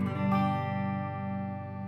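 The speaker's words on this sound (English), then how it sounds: "when I play a regular sound with the pickup that's called the bass pickup" A sustained electric guitar chord on the neck (bass) pickup rings out, warm and mellow, with a slight tremolo-like pulse as it slowly fades.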